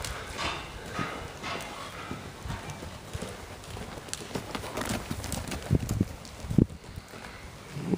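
Horse hooves beat out a steady lope in an arena during a leg-aids riding lesson, the rhythmic clip-clop fairly close with faint background noise.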